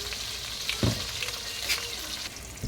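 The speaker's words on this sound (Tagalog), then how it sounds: "Nagigisa na natin guys" Garlic sautés in a hot pan with a constant oily sizzle, broken by a few quick stirring scrapes and clinks of the utensil against the pan.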